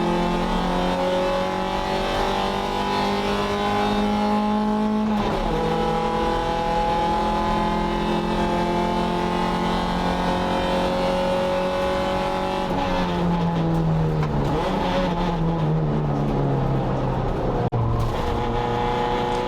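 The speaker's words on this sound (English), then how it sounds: "So I get a decent launch, get through the first 2 gears nice and smoothly" A race car launches from the start and accelerates hard through the first gears, its engine a loud, sustained roar that rises in pitch, drops at each upshift and climbs again, heard close and continuous.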